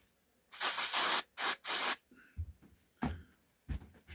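Short bursts of aerosol accelerator spray hiss over resin-filled voids in a beech and resin side table, three loud sprays close together followed by quieter clicks and handling taps.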